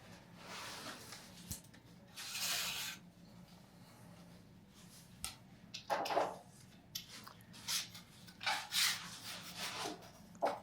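Sanding strokes come in intermittent close rasping bursts of varying length, some quick and scratchy, others longer rubbing passes, with quiet gaps between them.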